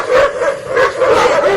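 Several dogs bark and yip in quick, loud, close bursts, overlapping one another at night.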